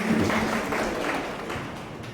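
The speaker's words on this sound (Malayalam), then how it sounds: "കൈയടിച്ച് കർത്താവിന് നന്ദി പറയാം" A congregation claps together at an Emmaus growth retreat in Ernakulam, Kerala: a dense, steady wash of hand-claps that holds for about two seconds and then eases slightly.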